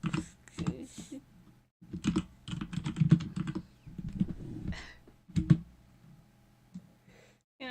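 Computer keyboard typing in quick clustered bursts of clicks, close and moderately loud, with short pauses between runs and some breathy vocal sounds in between.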